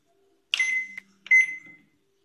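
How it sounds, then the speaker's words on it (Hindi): Two short electronic beeps from a microwave oven keypad set to bake in convection mode, close and clear against silence. "अब हम माइक्रोवेव में इसे 120 पे 15 मिनट के बेक करेंगे।"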